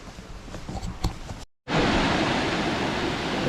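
A mountain stream rushes through Daewonsa valley on Jirisan, a dense, steady roar of flowing water heard close after a brief cut, with softer ambient sound and faint clicks before it.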